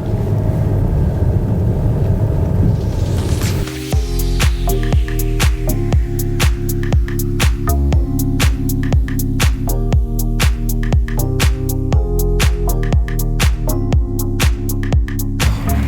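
Tractor performing deep loosening tillage at about 35 cm depth, wheat and rapeseed field. A steady low engine drone with a rumbling undertone, then a dense run of regular rhythmic clanking and knocking pulses near the machine, continuous and loud.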